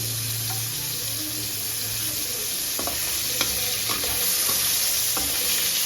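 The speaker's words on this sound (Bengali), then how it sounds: "তাই একবার করে উল্টিয়ে মাছগুলো আমি জাস্ট ভেজে নেব হালকা করে" Shrimp frying lightly in hot oil in a pan for an echor chingri (jackfruit and prawn) dish, a steady close sizzle and crackle with occasional sharp spatter pops throughout, no talking.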